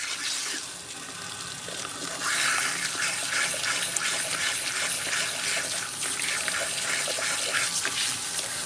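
Water runs steadily from a salon sink sprayer, rinsing product out of hair in a continuous hissing splash that grows fuller after the first couple of seconds and stays close and fairly loud.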